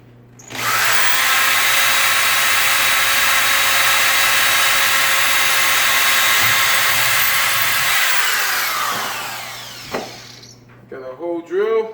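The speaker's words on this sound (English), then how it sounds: "I'm going to drill on through." Loud, close whine of a power drill boring through a kitchen cabinet to mount a knob, running steadily for about seven seconds before spinning down, followed by a few faint knocks.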